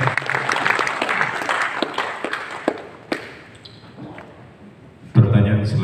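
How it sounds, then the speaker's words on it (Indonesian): Audience applause at a university presidential and vice-presidential candidate debate, a short round of clapping that thins into a few scattered claps before a voice speaks near the end. "Mari kita tepuk tangan lagi."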